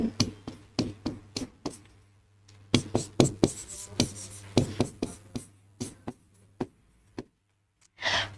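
A teacher writes on a board during a biology lesson, marker or chalk strokes tapping and scraping in quick irregular bursts close by, with brief pauses between groups of strokes and a low steady hum beneath.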